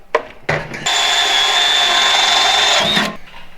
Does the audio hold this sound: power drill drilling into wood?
yes